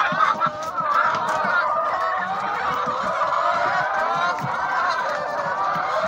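Naturally raised chickens clucking excitedly as they crowd together to feed, a steady busy chorus of close clucks and squawks with little else audible.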